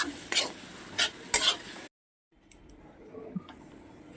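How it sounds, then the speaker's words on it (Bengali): Masala paste frying in oil while being stirred, a few sharp scraping strokes and sizzle bursts, then a sudden drop to near silence followed by faint scattered clinks and light sizzling. "মশলাটাকে খুব ভালো করে ভেজে নেবে আমি ততক্ষণ ধরে ভাজবো যতক্ষণ না এর থেকে তেল ছাড়ে"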